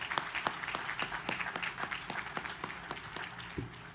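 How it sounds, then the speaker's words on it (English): Applause from the crowd at the commissioning ceremony of the Arleigh Burke-class Flight III destroyer USS Jack Lucas (DDG 125), with distinct individual claps standing out sharply against a dense, continuous patter of clapping. "So a big round of applause to everybody here and on the internet watching."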